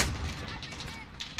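Grenade blast in an online multiplayer shooter, a broad rumbling boom filling the brief moment amid ongoing in-game gunfire.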